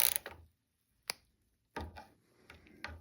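A Mazda 3 rear brake caliper piston being wound clockwise with a tool, giving sparse close mechanical clicks and scraping turns separated by silent gaps, with no voices.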